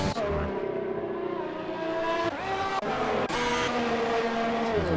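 An old Ferrari race car in a racing video game, its engine note climbing and dropping through gear changes with tyre squeal, loud and close with no voices.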